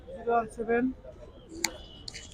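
Pigeons at a pigeon market cooing in two short throaty calls, followed by a sharp bird chirp and faint background chatter nearby.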